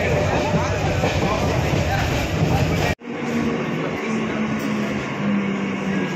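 A train running near Barrackpore station, a loud continuous rumble and rushing roar that cuts off sharply midway and resumes as a steadier hum with a faint tone.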